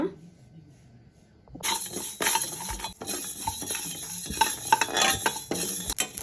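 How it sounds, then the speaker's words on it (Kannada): Cumin, fenugreek and mustard seeds being dry-roasted in a pan, with close scraping and stirring clatter plus a light sizzle that begins suddenly after a quiet start and continues steadily. "ಜೀರಿಗೆ ಮೆಂತ್ಯ ಮತ್ತು ಸಾಸಿವೆ ಇದಿಷ್ಟು ಹುರ್ಕೊಳ್ಳೋಣ"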